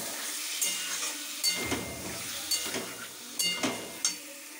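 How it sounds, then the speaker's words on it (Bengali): Mangoes being stirred in hot ghee in a cooking pot: a soft steady sizzle with several light scraping strokes of a spoon against the pan, near and fairly quiet, with no talking. "তো আমগুলো এবার নেড়ে নেব, আমি একটুক্ষণ নেড়ে নেব"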